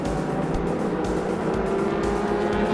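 MRF Challenge race cars run on track during free practice on MRF ZLO tyres, producing a steady loud engine drone with faint pulsing as the cars work around the circuit.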